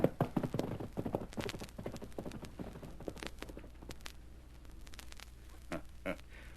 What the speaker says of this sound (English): I'm riding your horse and taking your place.